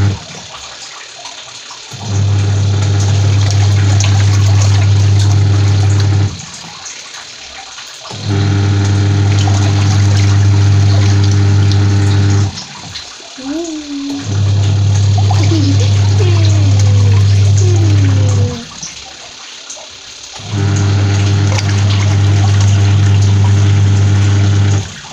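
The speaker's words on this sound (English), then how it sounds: "I want to spin it for just 1 minute for the soap to mix" A Ramtons 10kg single-tub washing machine spins soapy water, making a loud, steady motor hum in several long bursts separated by short pauses, with faint splashing and occasional higher sounds between runs.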